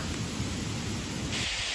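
Heavy rain pours down outdoors as a dense, steady wash of noise that stays loud and unbroken throughout, with no voices.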